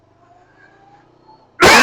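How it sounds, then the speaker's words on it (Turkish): Motorcycle engine pulling away at half throttle as the clutch is released on a licence-exam riding course, a near-silent lead-in broken by a sudden loud burst of engine noise at the very end. "Evet, yarım gaz, debriyajı hafif açıyorum."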